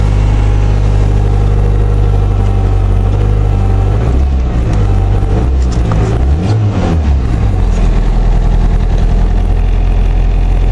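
A 2018 Ford Ranger engine in freezing cold just after a cold start: a loud, close, steady idle that swells through a rise and fall of revving midway, then settles back to idle, with no talking.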